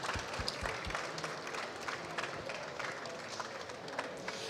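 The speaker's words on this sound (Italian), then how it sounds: "Un applauso." Audience applause at the close of an Italian talk on vibe coding, a brief burst of many hands clapping fairly steadily, moderately loud in a room.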